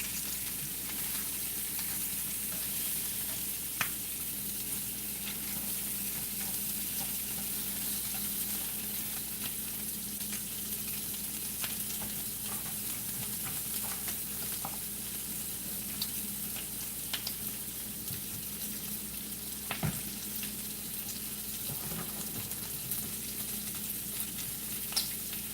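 Turkey sausages browning in a frying pan send up a long, even sizzle with scattered crackles and occasional sharp clicks of utensils, heard close with no talking.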